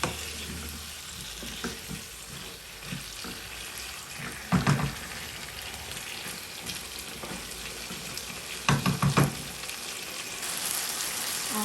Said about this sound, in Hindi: थोड़ा सा 2-3 मिनट के लिए मैं भूनूंगी आलू को मसाले में